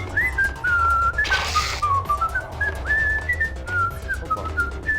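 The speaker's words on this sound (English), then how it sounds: "As we're listening to the bad guy's whistle" A bad guy in the video game Max Payne whistles a wandering, melodic tune, clear and steady throughout, over a low ambient hum with a brief burst of noise partway through.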